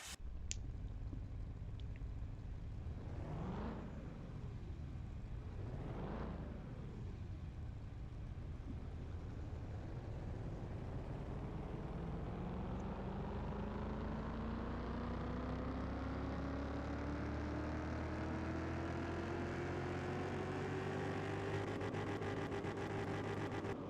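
A freshly rebuilt engine runs on a dyno, a loud continuous roar with two quick rev sweeps early on, then a long steadily rising pitch as it climbs in speed, with no talk over it.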